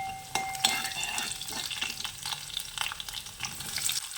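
Onion with garlic, ginger and dried chili stir-frying in a pan for a beetroot dish, a steady close sizzle with scraping stirs and light clinks of the utensil against the pan.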